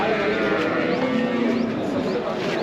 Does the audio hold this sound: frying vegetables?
no